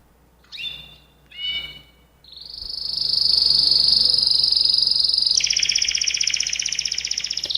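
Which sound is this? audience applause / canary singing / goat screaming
canary singing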